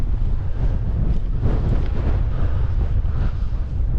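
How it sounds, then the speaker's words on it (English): Strong wind on an exposed mountain edge in the Cairngorms buffets the microphone in a steady, loud roar, gusting throughout with no voices. "it's a bit windy to be standing so near an edge"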